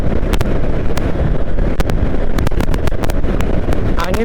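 Strong gusting wind buffeting a moving motorbike on the Cidaun–Pangandaran road, loud roaring wind noise across the microphone with sharp clicking bursts throughout and steady engine rumble underneath.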